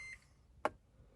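A single short electronic beep from a Toyota Prius 30 reverse gear warning, heard once, fairly clear against a quiet cabin background with no talk.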